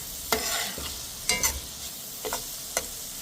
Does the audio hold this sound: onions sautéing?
yes